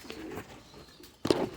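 Pigeons at a pigeon show give soft, low coos, ending in a fuller coo near the close, over a faint background with no speech.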